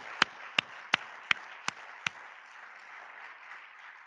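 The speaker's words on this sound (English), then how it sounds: "Give yourselves a round of applause for that." Six sharp, isolated hand claps sound at a steady pace at the 10th Annual Opening Lecture featuring Roland Martin, fairly faint over a quiet hall hush, then stop, leaving only low room noise.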